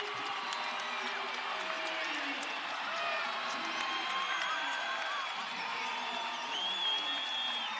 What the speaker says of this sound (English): Crowd is on their feet.